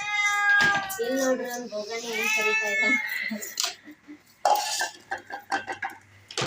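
A cat meows in a long drawn-out cry, then gives shorter mews, with clinks of dishes and utensils and some talk nearby.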